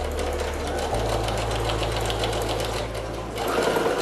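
A sewing machine runs a short backstitch while sewing a fabric bowl holder, its steady motor drone and rapid needle clatter continuing nearly unbroken for several seconds, close up and fairly loud.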